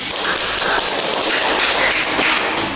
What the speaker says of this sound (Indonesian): Mari kita beri aplaus untuk kelompok 1